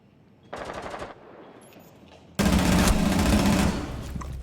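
Automatic gunfire in a video game rattles out in a short burst, then after a quieter pause a longer, louder sustained burst, close and without talking.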